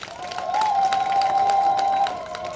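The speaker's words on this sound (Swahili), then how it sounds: "Makofi mengi na vigelegele." Lots of applause and a long, sustained high ululation at a Catholic parish fundraiser in a church setting, the trilling cry rising and holding steadily for about a second and a half over a steady bed of clapping from the crowd.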